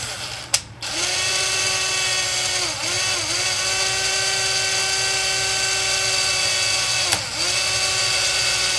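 A power tool runs steadily while driving a skid plate bolt on a Jeep JK, a sustained whirring drone with brief pauses and pitch dips near the start and again later, close and loud with no talk over it.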